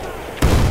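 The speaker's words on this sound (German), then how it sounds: "Ich schick dir eine Granate!" A grenade goes off in the video game Battlefield 1 Rush multiplayer, a sudden loud boom cutting in after a quiet moment and rumbling on to the end.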